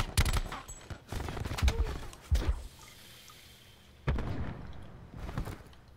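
Several sharp gunshot bursts from sniper rifles in Call of Duty Black Ops 4 league play, loud cracks with booming tails, a cluster early on, one more at mid-clip and another burst near the end.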